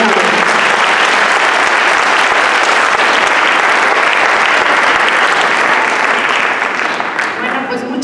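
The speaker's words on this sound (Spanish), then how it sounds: "muchas gracias por el aplauso anticipado" An audience applauds loudly for a speaker at a talk on Judaism in Ibero-America, dense continuous clapping filling the whole stretch and fading slightly at the end.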